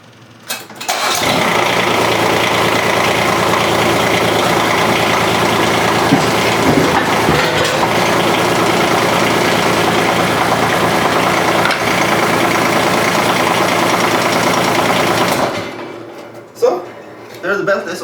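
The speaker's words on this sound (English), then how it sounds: "So let's start the engine and put it on." A Kubota U10 mini excavator's diesel engine cranks and starts, then runs at a steady loud chug for about fifteen seconds before shutting off abruptly.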